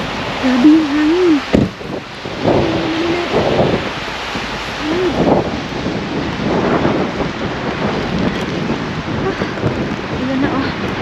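Strong wind gusting outdoors in Finland roars as a loud, steady broadband buffet against the microphone, with a voice speaking over it throughout.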